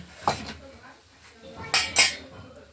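Cooked bottle gourd curry served from a pan onto a plate, a few clinks and scrapes of a metal utensil against the dishes, with brief background voice.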